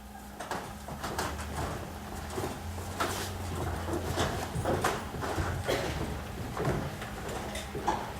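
Horses' hooves clip-clop steadily through a staged King Lear scene, the rhythmic knocks continuing for several seconds over a low steady hum.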